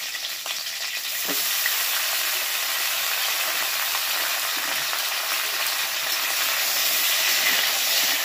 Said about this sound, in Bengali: শিমটা হালকা করে একটু ভেজে নেব।